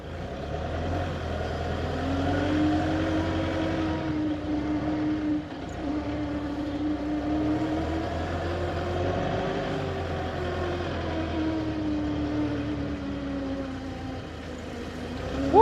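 An LG CLG2025H 5,000 lb diesel forklift drives around with a steady low engine drone whose pitch shifts slightly as it moves and turns, loud and close, with no talk.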